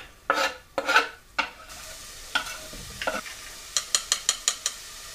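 Garlic sizzles in a frying pan for daal, with a soft background hiss broken by scraping stirs and a quick run of spoon taps against the pan near the end.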